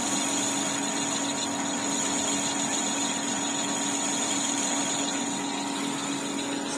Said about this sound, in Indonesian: prosesnya ini hanya memakai gerinda saja, tidak ada mesin bubut sama sekali